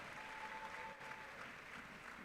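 Steady audience applause at a swearing-in ceremony for foreign-trained medical and dental graduates, a dense even wash of clapping held throughout, moderately distant, with a faint tone briefly sounding within it.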